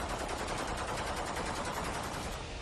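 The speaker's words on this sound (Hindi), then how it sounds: "विद्रोही हवा में फायरिंग कर खुशी जता रहे हैं।" Rebels fire celebratory gunfire into the air in the streets of Damascus: a dense, continuous crackle of shots rattling throughout, steady and fairly loud, with no voices.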